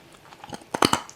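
Someone bites into a garlic bread crouton snack at close range, producing a few quick, sharp crunches that peak near the end of the short burst.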